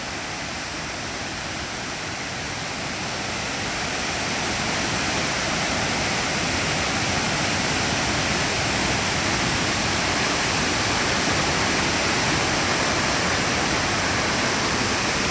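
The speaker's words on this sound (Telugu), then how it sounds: "ఇక్కడ నుంచి చూడాలి వాటర్ ఫాల్ అని" Kothapalli waterfall near Vizag pours down in a loud, steady roar of falling water that swells slightly at the start and then holds constant, with no voices.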